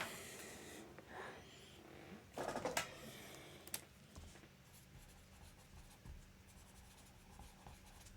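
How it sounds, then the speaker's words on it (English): A marker scratches across a surface in quiet, close strokes, with a short burst of louder scribbling partway through against a low, faint room background. "I'm going to write it up here just so I don't forget"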